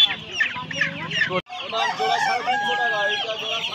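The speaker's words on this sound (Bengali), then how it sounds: "এখানে দেখুন অস্ট্রেলিয়ান মুরগির বাচ্চা রয়েছে" Australian chicken chicks at a crowded hen market in Uluberia, clucking and calling continuously with overlapping rooster-like crowing, loud and near, a brief drop in the middle before the flock noise resumes.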